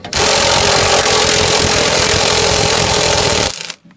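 A power tool runs hard and steady for about three and a half seconds, removing 10mm bolts from a washing machine during a brush change, then cuts off abruptly, leaving near silence.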